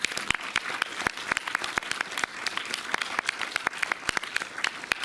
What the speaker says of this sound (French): Si la réponse est oui, vous pouvez applaudir maintenant Dominique Cabrera.